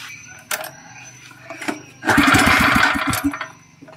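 A Mitsubishi 6 hp small petrol engine is pulled over with a couple of sharp knocks, then sputters into a loud, rough, chugging run for about two seconds before dying away.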